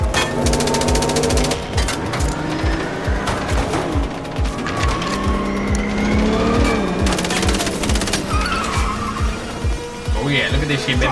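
A video game car races and skids, its engine roaring with tire squeals among bursts of rapid gunfire, and voices talk over the action throughout.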